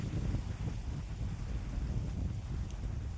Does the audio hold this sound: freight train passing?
no